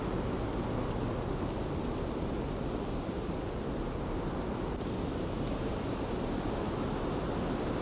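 Dense, constant rushing wind noise filling the space, broadband and unchanging, with no voices or distinct events.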